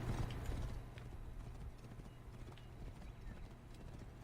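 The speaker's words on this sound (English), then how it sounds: "This is a nice horse, pretty fast." Horse hooves galloping in an Assassin's Creed game, a quick, steady clip-clop rhythm at fairly low volume, with nobody speaking.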